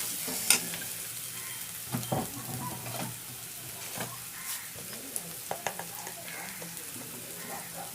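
Crabs fry in oil in a village-style spicy crab fry, giving a continuous close sizzle with occasional spatula scrapes and stirs, and faint birds in the background.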